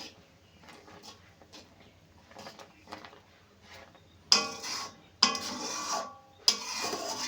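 A spoon stirs milk in a cooking pot for Maggi noodle payesh: soft faint rubbing at first, then three louder scraping strokes against the metal, with no talking.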